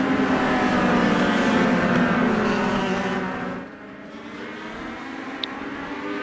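Race cars circle a track behind the pace car at Lakeland, their engines a loud sustained droning roar that fades partway through and then lingers more quietly. No one speaks.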